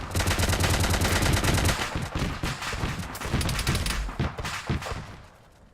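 Sustained automatic gunfire in Arma 3 during a firefight around buildings, with rapid loud bursts from more than one weapon that overlap and keep going before tapering off near the end.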